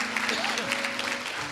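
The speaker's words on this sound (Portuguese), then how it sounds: "Se foi abençoado, dá uma salva de palmas aí para Jesus." A church congregation applauds in a worship service, a dense burst of clapping from many hands filling the room as a voice speaks over it.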